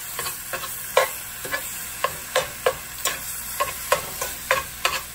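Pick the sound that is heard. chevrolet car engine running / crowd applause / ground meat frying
ground meat frying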